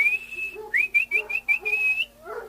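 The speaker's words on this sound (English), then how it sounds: "and I whistled for Chica." A person whistles to call a greyhound, first with a long steady note and then with a run of short rising chirps, clear and close.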